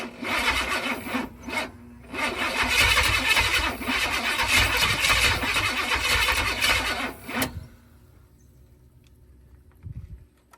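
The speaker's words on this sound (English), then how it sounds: "I think the starter's struggling." A classic truck's engine cranks as its struggling starter labours for several seconds, giving a loud, rough, uneven churning that stops abruptly, followed by near silence with a faint thump.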